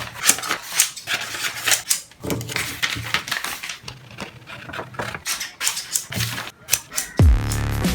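Scissors snipping through printed paper goal sheets in quick, uneven bursts, close and fairly loud, with rustling paper between cuts and a heavier thud near the end.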